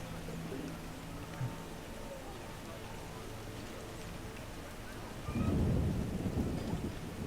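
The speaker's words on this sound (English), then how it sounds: "it's raining. It's a good thing Geralt's not too bothered about the weather." Rain falls steadily in The Witcher video game, with a deep roll of thunder rising near the end over the constant wash of rainfall.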